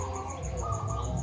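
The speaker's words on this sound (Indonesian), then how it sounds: "burung pleci datang lagi ke aviari mini saya bos" A wild white-eye (pleci) sings near a mini aviary outdoors, its repeated high chirps and trills recurring steadily and moderately close over a constant background of insect buzz and low ambient noise.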